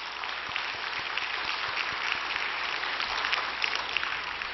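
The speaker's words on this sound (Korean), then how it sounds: "우리 하나님께 감사의 박수를 드립니다" A congregation at an early-morning prayer service claps in a dense, even round of applause that holds steady for several seconds.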